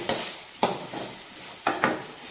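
Capsicum frying in a pan with softened tomato, a spoon stirring with a handful of sharp scrapes and clinks over a steady soft sizzle, close by.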